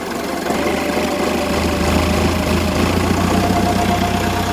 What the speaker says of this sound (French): faire tourner la pompe un petit peu plus vite afin de sortir un petit peu plus d'eau